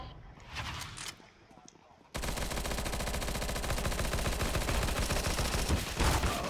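An M4 rifle in Counter-Strike: Global Offensive firing a full magazine: after brief quieter game sounds, a loud, dense, continuous automatic burst runs for about four seconds, with a voice talking over the gunfire.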